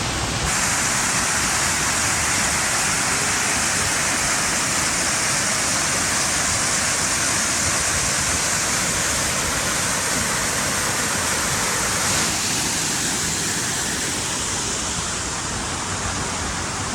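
A waterfall along the Pacific Crest Trail, heard close up as a loud, unbroken roar of rushing water that holds steady throughout with no voices.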